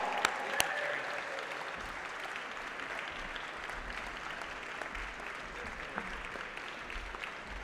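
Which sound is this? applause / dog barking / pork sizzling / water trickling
applause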